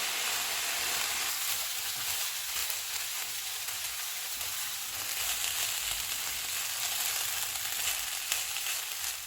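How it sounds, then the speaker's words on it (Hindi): Chicken filling with soy sauce, salt and crushed black pepper frying in a pan for aloo chicken spring rolls, a steady close hissing sizzle with faint stirring and no talk. "नमक, कुटी हुई काली मिर्च, इनको भी 2 से 3 मिनट तक भूनेंगे।"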